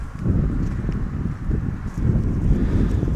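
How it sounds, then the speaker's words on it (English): Steady wind buffeting an outdoor baseball field during a girls' under-16 championship game, a continuous low rumbling roar with mild gusting and no voices. "the wind is a little bit of a factor, going from pretty well from foul pole to foul pole"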